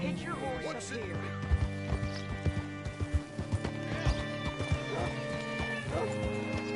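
Horse hooves clip-clop at a steady walking rhythm in Red Dead Redemption 2, fairly close and distinct, with a horse snorting or whinnying and low background game ambience underneath.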